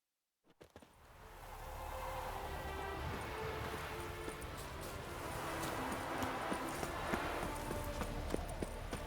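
Horse hooves clip-clopping in a video game, a run of rhythmic, fairly quiet hoofbeats that starts after a brief silence and continues steadily over low rumbling background ambience.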